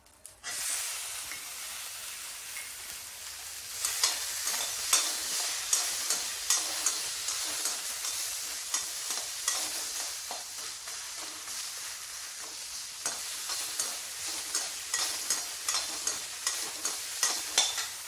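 Tomato is sautéed for a South Indian spinach curry, with a soft sizzle under repeated rhythmic scraping and stirring strokes of a spoon against the pan that grow busier midway, and no voice.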